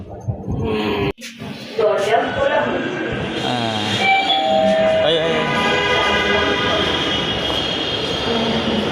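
A Dhaka metro rail train runs along, its steady rumble and rising, whining motor tones filling the car, with a brief clunk early on and people talking under the noise.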